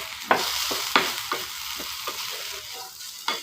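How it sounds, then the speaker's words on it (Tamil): A spoon is stirred through garam masala in a hot frying pan. Steady sizzling runs throughout, broken by about seven quick scraping strokes across the pan. "ஸோ ஆட் பண்ணிட்டு கொஞ்சம் நல்லா கிளறி விட்டுட்டு திருப்பி மூடி போட்டு மூடிடலாம்."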